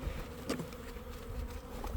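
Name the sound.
honey bees buzzing in a hive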